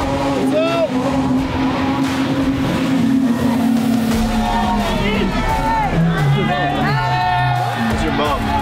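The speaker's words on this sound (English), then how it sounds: "I don't want to let my foot off the throttle like at all" A Lamborghini SVJ driven at full throttle, its engine screaming through rising pitch sweeps and gear changes, loud and close, with people talking and crowd noise around.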